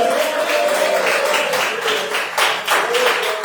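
A church congregation claps during an evening worship service, a dense, continuous patter of many hands with voices singing or speaking over it.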